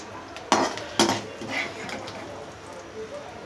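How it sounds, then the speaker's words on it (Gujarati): Makai chevda, a fried corn snack with sesame and curry leaves, is mixed in a pan. Two sharp clanks of a spoon against the metal are followed by softer scraping and stirring, with quiet talk at times. "તલ, ચેવડો તૈયાર કર્યો છે એની અંદર આપણે આને મિક્સ કરી દઈશું."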